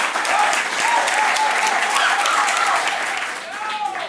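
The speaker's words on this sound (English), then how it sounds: "A round of applause for those teams." An audience at a school quiz competition applauds the teams, a loud, dense, sustained burst of clapping lasting several seconds with faint crowd voices underneath.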